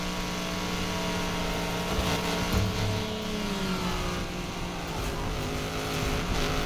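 A race car engine in a racing video game drones steadily at high revs, a sustained buzzing tone with slight pitch shifts and a brief surge of revving midway, loud and continuous.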